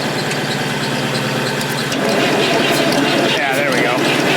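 A Fordson Super Major tractor diesel on a backhoe cranks over steadily, a loud continuous mechanical churn that swells a little midway and keeps running without settling into an idle.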